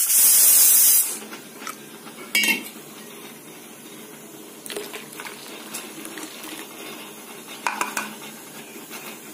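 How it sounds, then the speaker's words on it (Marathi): Water poured into ground mint paste in a bowl for pani puri, a loud rushing hiss lasting about a second, followed by quieter clinks and scrapes of utensils. "त्याच्यामध्ये आपण आवश्यकतेनुसार पाणी घालणार आहोत।"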